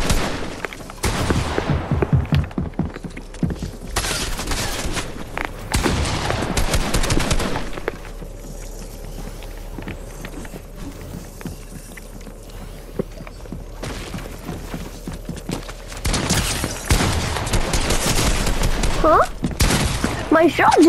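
Gunfire in a shooter video game: repeated bursts of shots clustered near the start and again toward the end, with a quieter stretch between, heard with speech over it.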